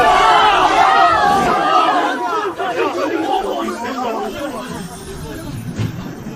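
An animated series crowd cheers in a loud wash of excited voices and clamour that fades slightly over several seconds, with a dense babble of many people shouting together.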